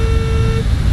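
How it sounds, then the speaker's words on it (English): Landing gear warning horn in a Microsoft Flight Simulator jet on approach with flaps set, a steady electronic tone holding for about half a second over a constant low cockpit engine rumble. "Gear horn."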